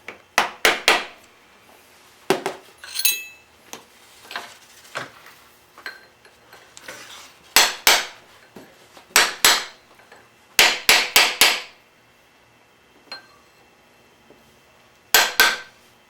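A bent tab washer on a motorbike countershaft sprocket being hammered flat, with sharp metallic blows coming singly and in quick clusters of three or four, loud and close, separated by short quiet gaps.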